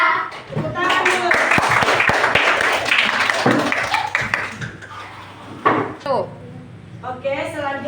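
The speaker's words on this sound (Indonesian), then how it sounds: "Tepuk tangan dulu." A fourth-grade class in a Pancasila lesson claps hands together, a burst of dense overlapping applause with sharp claps, mixed with children's voices and a teacher talking over it.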